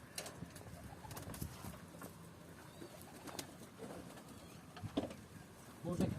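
Domestic pigeons coo softly inside their coop while being fed greens such as purslane, with low murmuring calls and a brief flutter near the end, quiet and somewhat distant against faint room noise.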